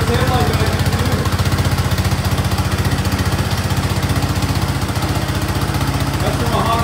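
A Honda ATC 200x three-wheeler engine idles steadily close by, a loud, even, rapid putter holding constant throughout with no revving.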